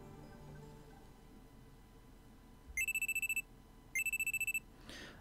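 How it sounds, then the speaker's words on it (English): Two bursts of a loud electronic phone alarm from the video game Steins;Gate, each a rapid run of high beeping pulses, ringing out over a quiet low background with a brief pause between them. "I'm sleeping on the couch when a loud alarm rings in my ears."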